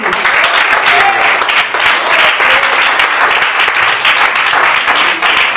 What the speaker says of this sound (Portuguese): Quero pedir você que aplauda o Senhor Jesus.